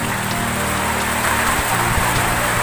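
Rain from Typhoon Rolly falls steadily, a loud, close, dense hiss of drops hitting surfaces that keeps up without a break, with no talking.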